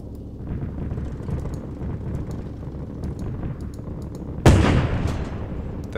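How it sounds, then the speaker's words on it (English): A grenade explodes in the Arma 3 combat game as a sudden loud blast near the end, following steady rumbling battlefield noise of distant artillery-like booms and gunfire. "They're throwing grenades at me."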